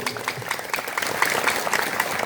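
A church congregation at an evangelistic revival service in Alor gives a brief, lively round of applause, steady overlapping claps at moderate distance for a couple of seconds.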